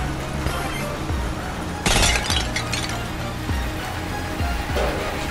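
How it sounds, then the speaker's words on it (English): Cubes bursting and shattering in the Cubeworks PSVR game, a sharp glassy crash near two seconds followed by lighter tinkling debris over a steady background hum of game sound. "the shattering sound is quite satisfying"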